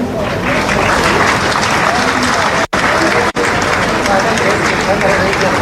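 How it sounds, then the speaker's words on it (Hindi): A large audience at a public gathering in Raipur applauds loudly and continuously, a dense wash of clapping that fills the clip with only a brief dropout partway through. "तालियां बजाने में आप बिल्कुल भी कंजूसी ना करें। तालियों की गूंज गूंजती रहनी चाहिए इस सभा में।"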